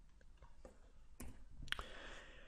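A computer mouse clicks on an OK button, giving a few quiet, crisp clicks close to the microphone in an otherwise hushed room.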